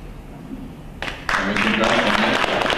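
Applause from a debate audience breaks out suddenly and swells into steady, dense clapping that carries on to the end, with a voice speaking over it.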